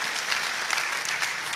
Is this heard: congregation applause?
yes